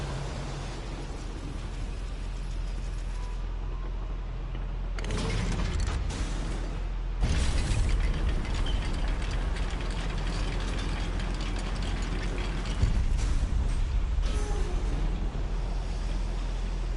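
A simple mechanical lift in a goblin mine in a video game creaks and ratchets as it runs, with steady grinding mechanism noise, sharp jolts partway through and a louder clanking stretch near the end, with no voices.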